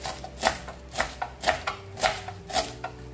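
Cabbage and carrots are sliced into small pieces with a knife, each stroke a crisp thud on a board in a steady rhythm of about two per second, close and alone.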